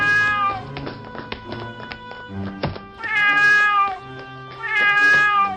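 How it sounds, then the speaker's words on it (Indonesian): A cat meows loudly and close by in a series of drawn-out, wavering cries, the strongest near the end, with scattered knocks and taps from around a shelf in between. "Astaga, kucing siapa ini?"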